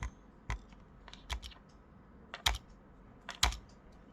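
Someone types a year on a computer keyboard with a few sharp, close key clicks in short irregular bursts separated by quiet gaps.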